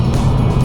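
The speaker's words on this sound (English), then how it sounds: "The acceleration of the car is nice." A remapped 2015 Seat Leon FR 2.0 TDI diesel pulls hard under acceleration, a steady loud low engine drone with road roar from inside the car.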